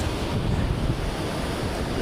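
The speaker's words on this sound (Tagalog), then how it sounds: "Ganyan kalaki yung alon nila" Rough ocean surf at Lingayen, Pangasinan, a continuous low roar of large waves mixed with heavy wind buffeting the microphone, close and loud with no speech.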